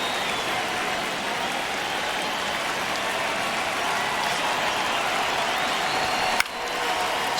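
Steady roar of a baseball stadium crowd in MLB The Show 26, a ninth-inning one-run game between the Braves and Red Sox, holding a broad continuous wash throughout with a brief sharp spike near the end.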